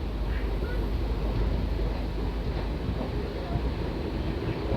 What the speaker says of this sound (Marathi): फ्रेट ट्रेनला लीड करतो आहे W A G nine locomotive